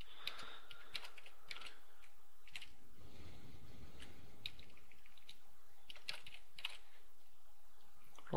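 Keystrokes on a computer keyboard during work in After Effects, a steady run of light clicks and taps with brief pauses, close and fairly quiet, no voices.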